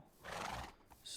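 A horse in the Minecraft Create mod lets out a single short whinny, clear and close, followed by a brief hiss of game ambience.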